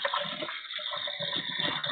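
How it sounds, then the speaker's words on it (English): A toilet in a room numbered 215 that has a problem is flushed, and water rushes and gurgles steadily for about two seconds. The sound is fairly loud and close, with no talking over it. "I'm gonna flush it again."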